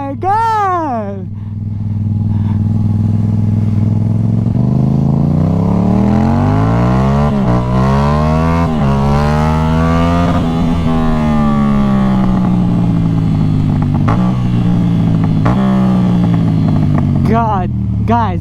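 A stunt motorcycle engine revs hard and steadily, its pitch sweeping up and down through repeated throttle blips, loud and close for the whole stretch, with excited voices calling out over it.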